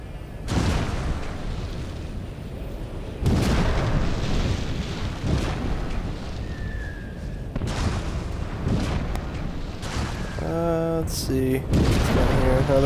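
Cannon blasts and explosions from the video game RIFT boom heavily again and again, loud and close, with a brief tonal game effect near the end.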